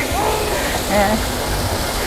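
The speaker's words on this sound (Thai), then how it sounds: "ตรงนี้มีน้ำตกด้วย" An artificial waterfall in a city park in Ubon Ratchathani gives a loud, steady rushing wash of water close by, with a voice speaking over it.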